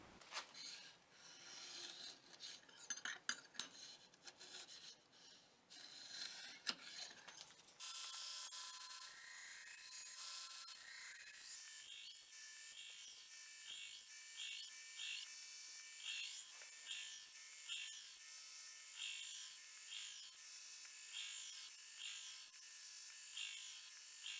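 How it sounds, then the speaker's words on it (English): A harsh, raspy grinding whine from a belt grinder shaping the bevels of a bushcraft knife runs steadily for the whole stretch, shifting in tone partway through as the abrasive bites and eases in short passes. "go to the grinder and get these bevels finished up"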